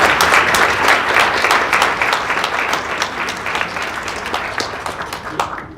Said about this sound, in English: allow everyone here to applaud everyone else here